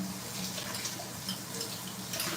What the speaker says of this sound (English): I'm just going to add a little water too.